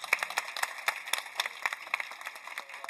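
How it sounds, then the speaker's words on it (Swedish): Audience at the 2022 Swedish sommelier championship applauding a contestant: a small crowd's steady, dense clapping, close and unbroken, with no talk over it. "En stor applåd för Martin, hörni."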